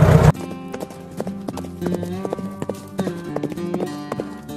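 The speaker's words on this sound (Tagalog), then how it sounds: "naipasok rin sa horse pen ang kanilang mga kabayo" Horses on a farm clip-clop in a quick, uneven stream of hoof beats as they are driven into a horse pen, loud and close, with a brief burst of noise at the start.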